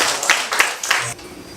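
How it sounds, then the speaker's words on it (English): Brief applause at an award ceremony honoring the legacy of St. John Paul II: a few sharp clapping bursts close together, then it cuts off abruptly into quiet room tone. "Let us give a round of applause"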